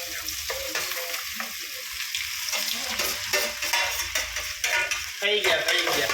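A utensil scrapes and clatters as muthiya dhokla is stirred in a metal steamer pan, with repeated close metallic knocks and scrapes over a low sizzle, no voices.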